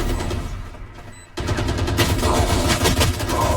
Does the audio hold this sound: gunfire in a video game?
yes